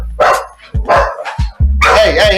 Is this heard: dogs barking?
yes